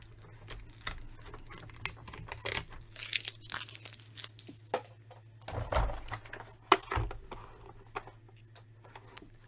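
A sticker is peeled off a boxy plastic toy Batmobile, a Spin Master Tech Defender, giving close crinkling and tearing rustles in uneven bursts with short pauses between.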